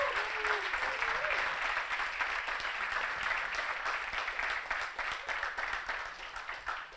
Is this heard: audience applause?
yes